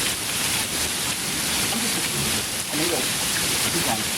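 Heavy rain pours down during a hail storm in Henderson, Nevada, a dense, steady hiss that fills the whole stretch. A voice murmurs faintly underneath.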